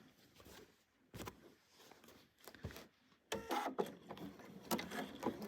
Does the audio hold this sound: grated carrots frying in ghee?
no